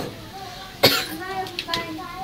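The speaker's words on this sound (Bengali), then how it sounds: "কি কাশি আসতেছে?" A single sharp cough rings out close by during outdoor winter cooking of bhapa pitha and goat meat beside a bamboo grove, with faint voices in the background before and after.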